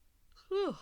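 A single drawn-out yawn, breathy at first and then rising into a voiced, falling groan, close and fairly loud, heard alone.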